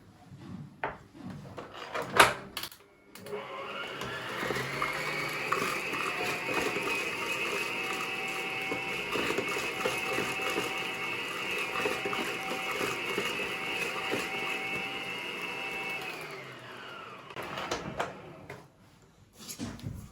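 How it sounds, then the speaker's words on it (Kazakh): An electric mixer whirs steadily at medium speed for about fifteen seconds while beating cream cheese for a Spanish cheesecake, with a few clunks before and after. "творожный сырды миксерлейтін болсаңыздар, осылай орташа жылдамдықтан бастау керек болады"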